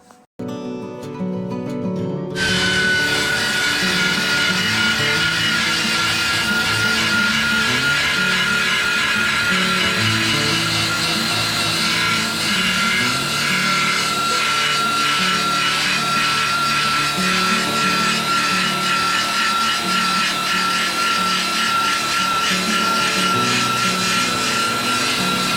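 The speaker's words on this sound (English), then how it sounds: "belt sander" A belt sander runs continuously near the microphone, a loud abrasive whirr with a steady high whine as it grinds metal during exhaust work on a 1964 Buick Special, starting after a brief pause and holding unbroken throughout.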